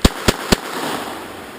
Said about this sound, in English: So let's put 3 shots in this tree here.